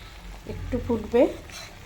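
Pointed gourd pieces simmering in a spiced gravy in a pan, a brief close sizzle and bubbling with a soft clink of stirring, with faint voice-like tones partly over it.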